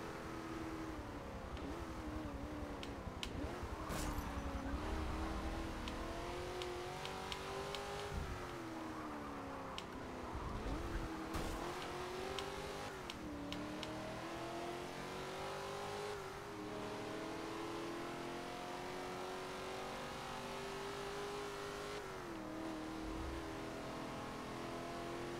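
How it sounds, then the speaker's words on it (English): An orange Corvette and a black Charger race in the Forza Motorsport 7 video game, with steady engine drone, rising and falling revs through gear changes and faint passing roars. "The orange Corvette and the black Charger."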